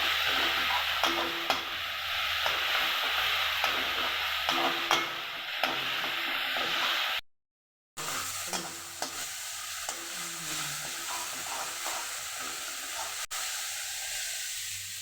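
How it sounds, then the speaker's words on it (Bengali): Spiced paste with crushed onion sizzling and frying in oil for a Bengali prawn curry, with a steady hiss and repeated stirring scrapes that run throughout, broken by one short silent gap. "মশলার মধ্যে দিয়ে দেব থেতো করে নেওয়া পেঁয়াজ"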